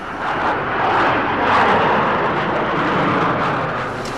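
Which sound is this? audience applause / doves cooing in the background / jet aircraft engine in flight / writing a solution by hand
jet aircraft engine in flight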